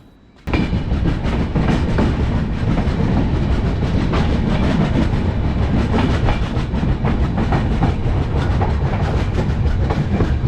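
A Jammu Tawi Express train rolls along the tracks from Pathankot Junction toward Kathua with a loud, continuous rumble and rhythmic clatter of wheels, starting abruptly after a quiet moment.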